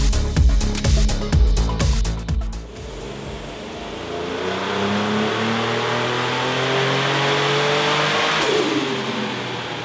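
A car engine on a dyno roars through a power run, starting with rapid pulsing bursts then a sustained rising wail that climbs in pitch, loud and close with a broad rushing noise beneath.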